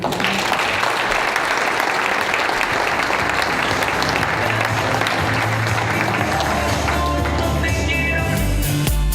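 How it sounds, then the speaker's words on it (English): Loud, sustained applause from a crowd, dense clapping that continues throughout, with a few voices mixed in toward the end. "give yourselves a round of applause"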